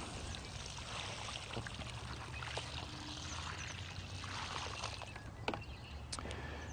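Water poured steadily onto freshly planted ground during a watering of about 15 gallons, a continuous soft rushing and splashing at moderate distance with no voices.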